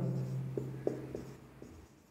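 Faint taps and short scratches of writing on a board as an equation is worked out, a handful of soft strokes spread over a couple of seconds.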